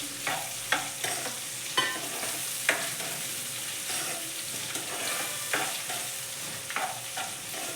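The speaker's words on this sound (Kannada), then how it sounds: "ಇದು ಎಣ್ಣೆಲ್ಲ ಫ್ರೈ ಆಗಬೇಕು ಸ್ವಲ್ಪ ಎಣ್ಣೆಲ್ಲ ಬೇಯಬೇಕಿದು" Small-cut beans and potato pieces fry in oil in a pan for vegetable fried rice, a continuous close sizzle broken by regular scraping strokes from stirring, with no talking.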